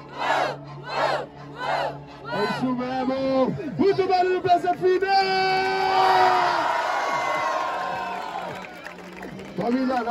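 Large crowd at a rap battle final roaring, whooping and cheering, starting with rhythmic chanted shouts that swell into a sustained loud cheer with a voice over it.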